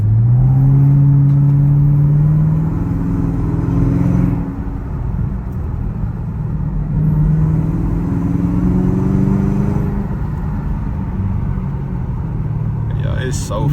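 A Camaro ZL1 with its exhaust valves open drives in fog, its engine and exhaust a loud, deep throbbing rumble that surges and swells, then eases and builds again, with someone talking over it.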